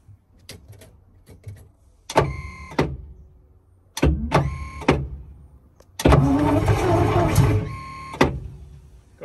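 An Alvis Stalwart military truck engine, run for the first time in 15 years, cranks in several rhythmic bursts with pauses between, then briefly fires into a rough, loud run before cutting out.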